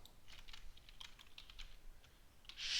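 Light clicking keystrokes on a computer keyboard, a few scattered taps spread across a short stretch, fairly quiet and close, with no voice.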